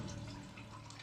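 Steady rush of a stream of water flowing through a cave wall in the game Sisyphus Reborn, a continuous even gurgling wash, soft and unbroken.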